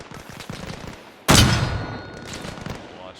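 A mortar round launches with one sudden, loud boom that rolls off into a lingering rumble, following several seconds of low background noise and faint thuds.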